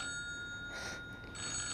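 A mobile phone rings during a meeting with an electronic ringtone: sustained tones with two brighter pulses in quick succession, fairly faint, with no talk over it.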